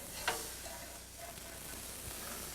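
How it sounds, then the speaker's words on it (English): Fish fries in a pan with a quiet, low sizzle, broken by a sharp scrape and clatter as it is turned, then a softer steady hiss as the fillet settles back into the hot oil. "Let's turn the fish."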